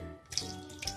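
Tap water runs steadily over freshly made homemade paneer being rinsed in a sink, a continuous close splash with two brief brighter surges, no talk.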